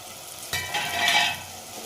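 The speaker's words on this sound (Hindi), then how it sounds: "अब इसको धीरे से चलाएंगे क्योंकि पनीर ना टूटे" Paneer cubes stirred gently through sizzling masala in a pan, a steady frying hiss with soft scraping strokes that swell in the middle and ease off, no voices over it.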